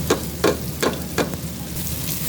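Ground spices (black pepper, turmeric, salt, cumin and coriander powder) go into a hot pan and sizzle steadily, with four evenly spaced sharp scraping or stirring strikes over the frying hiss.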